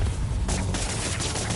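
Fireworks crates bursting in Marvel's Spider-Man 2 on PS5, a dense, continuous crackling fusillade of rapid pops and bangs with low booming rumble, loud and sustained throughout.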